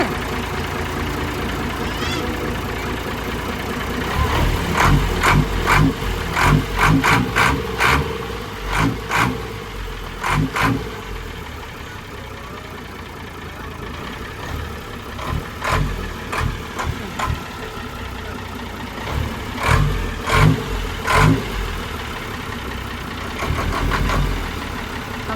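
A ten-wheeler Rocky195 truck with a ZF gearbox idles with a steady diesel rumble, broken by repeated short revs in quick bursts that rise and fall throughout, close by, with brief voices talking at times.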